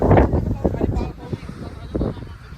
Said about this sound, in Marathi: लय हवा चालली इथं